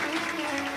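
Audience applause fills a Shiv Mahapuran katha gathering with dense, steady clapping close and loud throughout the short moment.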